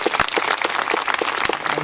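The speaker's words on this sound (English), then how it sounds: "let's also please give them a big applause for hosting us here in the summer" An audience at an astronaut panel event applauds its hosts with a steady patter of clapping hands, fairly close and continuous, with no talking.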